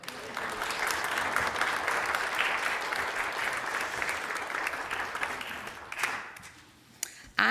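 A church congregation claps together at a Sunday service, a dense, steady wash of applause that tapers off near the end, followed by a few scattered sounds.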